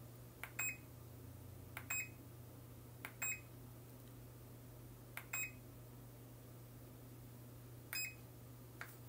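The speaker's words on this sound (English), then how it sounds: "Every time you hear a beep, pulse force up" Short electronic beeps from a headache-relief massage device ring out alone at a steady, slow pace, about one every one to three seconds, each raising the pulse level, over a constant low hum.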